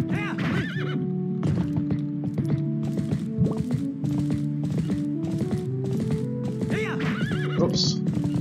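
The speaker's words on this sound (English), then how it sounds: "I know what I'm doing. I'm an expert horse rider." Horse neighs and clip-clopping hooves in a retro video game, with whinnies at the start and end over steady galloping, layered with a chiptune-style melody throughout.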